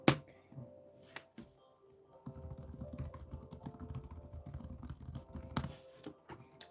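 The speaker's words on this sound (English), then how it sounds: "If you hear me typing, maybe this will be like ASMR typing" A computer keyboard clatters in a dense, steady run of close keystrokes, with a couple of louder knocks near the start and end, and no voices are heard.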